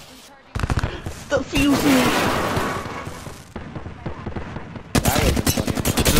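Shooting in an online multiplayer video game: loud spells of rapid automatic fire and single cracking shots come in close bursts separated by quieter gaps, while a player talks over the action.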